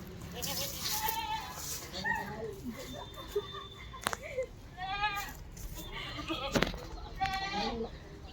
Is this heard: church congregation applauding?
no